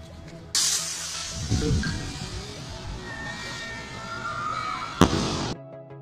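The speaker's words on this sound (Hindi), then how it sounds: "अब बारी है छोटे रॉकेट की। ये सिंपली ऊपर जाता है," A small Diwali rocket firework launches with a sudden loud hissing rush that carries for several seconds, then ends in a sharp crack near the close, heard close by with no one talking.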